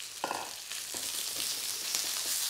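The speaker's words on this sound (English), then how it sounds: "You want to hear that sizzling sound." Seasoned minced chicken sizzles in a smoking hot wok, a loud steady hiss close up with a few short stirring scrapes and knocks.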